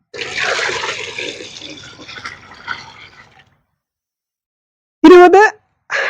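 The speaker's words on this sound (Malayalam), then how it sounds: "ഇനി ഇതിലേക്ക് നമ്മൾ നിറച്ച് വെള്ളം ഒഴിച്ചു കൊടുത്ത് വെക്കുക" Water pours noisily into a plastic bucket during preparation of amrutha pani, a gushing splash lasting a few seconds before going quiet, followed by a brief voice near the end.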